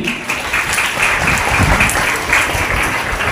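Audience at a college quiz programme applauding for a participant, a dense, loud burst of many hands clapping that continues steadily throughout, with no distinct voices.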